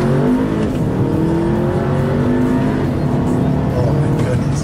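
A 2015 Audi A3 Quattro accelerates hard in first gear toward 4,000 rpm, its engine note climbing steadily and loud from inside the car, with road and tire roar underneath.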